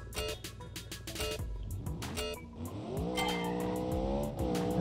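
An 800-horsepower car in a drag racing video game accelerates hard, with rapid gear-shift revs climbing in repeated sweeps, then a sustained loud engine drone rising in pitch near the end, with no one speaking.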